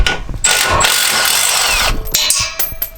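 A loud power tool whirs in a sustained burst while removing the muffler bolts on a cheap 500 hp Mustang GT, then drops off into clanks and shorter bursts.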